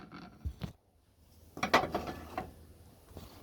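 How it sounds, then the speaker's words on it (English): A breaker bar loosens the oil filter on a 2004 Nissan D22 Navara, giving close, faint metallic clicks and grinding ratchet-like scrapes in short bursts with quiet gaps. "Just get your breaker bar, slot your breaker bar in, undo it."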